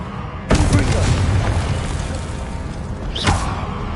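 A Confringo blasting spell in Hogwarts Legacy goes off as a sharp, loud explosive boom with crackling debris that rumbles out, followed about three seconds later by a second, smaller burst.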